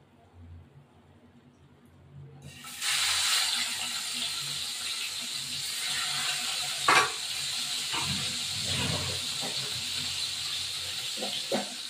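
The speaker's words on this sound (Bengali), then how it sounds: "আর একটু তেল দেব। এই দুটো মাছ একটু ভেজে নেব।" Two hilsa fish drop into hot oil and start a sudden, steady sizzle that stays close and loud, with a few crackles and stirring clinks.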